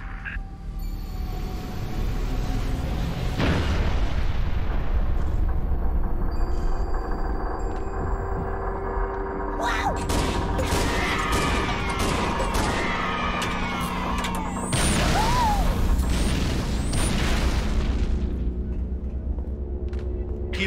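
An artillery final protective fire barrage in Halo Reach pounds and crashes in long, sustained waves of loud explosions, rumbling continuously with heavier surges and scattered debris-like crackles.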